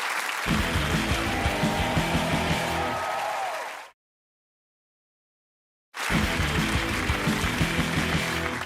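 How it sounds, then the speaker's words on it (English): A studio audience on a comedy panel show applauds loudly and steadily, broken by a two-second stretch of total silence in the middle before the dense clapping resumes. "Good to have a good Jack round of applause, ladies and gentlemen"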